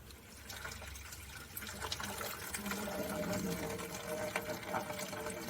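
Water drains steadily from the radiator of a 1990 Toyota 4Runner with a 22RE engine, a continuous trickling, splashing flow heard up close and fairly quiet throughout.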